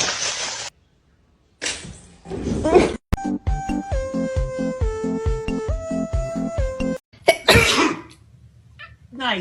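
A person sneezes in a few sharp, noisy bursts at the start and end, close and loud, with a rhythmic musical passage of steady tones in between.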